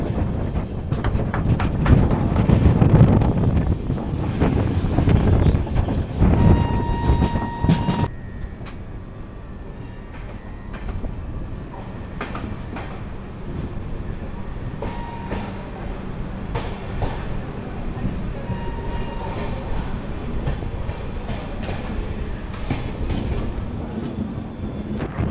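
A moving train on a Kolkata to Siliguri rail journey: loud continuous rumble and rattle for the first several seconds, then a quieter steady interior drone with faint clicks and tones, no talking.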